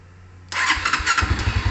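A Honda Phantom 200 custom motorcycle that sat parked for a year is started up. Its engine catches abruptly, then settles into a loud, close, uneven idle with rhythmic pulsing beats.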